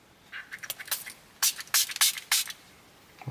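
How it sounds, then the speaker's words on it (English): Screen protector solution sprayed onto a Rivian's touchscreen, heard as a series of short, bright hissing spray bursts up close, with several louder pumps near the end. "We're going to spray on there."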